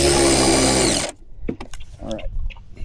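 A power tool tightens parts on a pool Shark cleaner's drive belt and gear, giving one loud, close whirring burst for about a second before cutting off to quiet clicks and handling noises.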